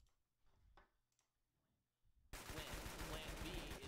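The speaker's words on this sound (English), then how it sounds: "the gunfire is so loud" In the Roblox game Arsenal, loud, dense bursts of rapid gunfire erupt suddenly after a few quiet seconds of faint clicks and movement, continuing steadily to the end.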